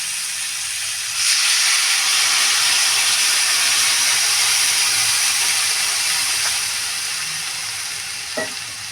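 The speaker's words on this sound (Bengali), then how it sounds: "এইবার দিয়ে দেবো জল, নিজেদের পরিমাণ মতো জল দেবে।" Water is poured into a hot pan of spiced cauliflower, kohlrabi and potato. A loud sizzle and hiss of steam bursts up and holds steady, then slowly fades, with a few faint clinks near the end.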